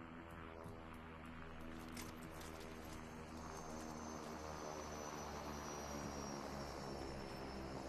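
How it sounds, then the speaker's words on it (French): A helicopter in the Super People video game thrums with a steady rotor drone, constant and fairly loud, alone, with a few faint clicks near the start. "Il y a des hélicoptères dans le jeu."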